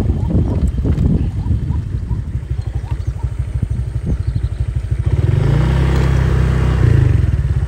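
Motorcycle rolling slowly along a rough, bumpy rural road, its engine putting out a close, rapid putter with clattering jolts, then a brief rise in revs near the end.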